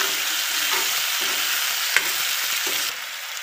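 Onion and tomato sizzle steadily while being stir-fried in a pan for a Maharashtrian broccoli bhaji, with faint scraping strokes from stirring and one sharp tap near the middle; no voices.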